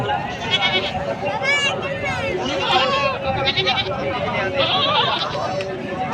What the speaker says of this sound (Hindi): बकरी देखो कैसी है माशाल्लाह, अच्छी बकरी है।